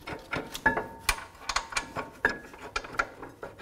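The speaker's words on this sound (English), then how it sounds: "Put the bolts back in." Metal bolts rattle and click as they go back into the rear brake caliper bracket of a 2009-2018 Ram 1500, a run of irregular, close ratcheting taps and clinks with no talking.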